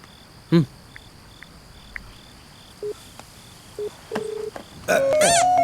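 Telephone number dialled on a keypad: a few separated beeps, then a short run of tones, ending in a louder burst of dialing tones, over a steady background of crickets chirping.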